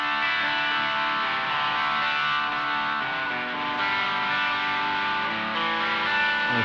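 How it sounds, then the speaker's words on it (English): An electric guitar played through an MXR GT-OD overdrive pedal cranked into saturated distortion, with bright sustained chords ringing loud and steady without a break. "Into a pretty saturated distortion."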